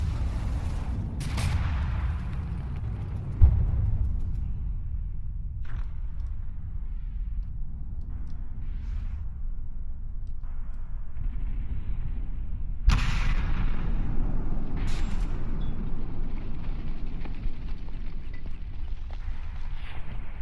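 A few sharp booms stand out over a loud, steady rumble, with quieter thuds between them and no one talking.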